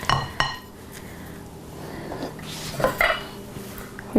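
A spoon clinks and scrapes against dishes while stuffing for meat-and-cheese rolls is prepared, with a few sharp taps near the start and end and quieter rattling between.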